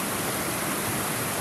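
Waterfall at Hickory Run State Park, a steady broadband rush of falling water heard alone, even and unbroken with no voices.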